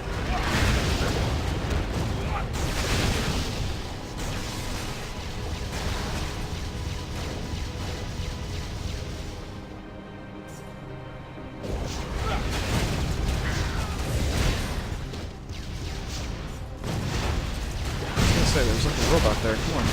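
Dwarven battle turrets firing in Torchlight II send out repeated heavy booming blasts, loud and dense through most of the stretch with a brief lull partway, while a player talks over the action.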